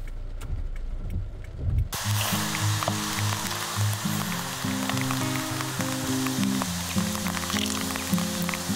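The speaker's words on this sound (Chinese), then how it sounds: "下雨， 下雨，" Steady rain falls outdoors near the Guanyin Buddha temple in Xindian, a dense even hiss starting after a quiet two-second opening and continuing unbroken, with faint tonal sounds layered over it.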